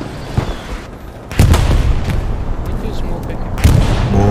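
Rapid gunfire and booming shots in the World War II shooter Hell Let Loose during a competitive league match, a loud burst landing around a second and a half in and continuing densely, with a player talking over it.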